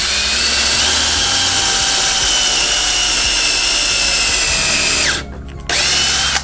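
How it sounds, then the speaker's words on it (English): A power drill bores a hole into a wooden bowl blank, a loud, steady whine running almost unbroken, dipping briefly near the end before spinning back up. "And just drill a hole into it."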